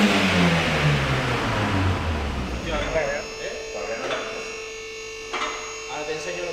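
A car engine run by a programmable Speeduino ECU revs up to its limiter around 7000 rpm and then falls away to a lower idle, loud and nearby, with someone speaking over the later part.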